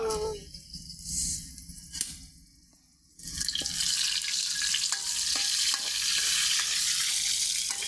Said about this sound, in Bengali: বন্ধুরা দিয়ে দেব তেজপাতা আর শুকনো লঙ্কা।